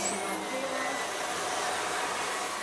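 A Hotpoint Ultimate Collection Energy Power 4 bagless cylinder vacuum cleaner with brush roll and tubing runs steadily and loudly, a constant broadband roar with a rising motor whine, no voices over it.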